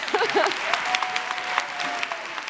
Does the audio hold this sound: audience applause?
yes